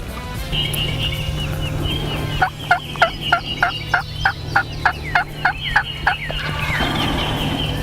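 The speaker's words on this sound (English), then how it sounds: "Both of them just flew down in the field. Both those gobblers." Wild turkey gobblers gobbling in a field, a run of about a dozen evenly spaced, rising calls at moderate distance over a steady low hum, with no talking.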